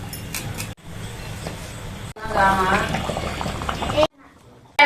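A pot of tamarind fish curry bubbles and simmers close by, the boiling broken by short pauses and a brief drop to near quiet, with a voice speaking over it.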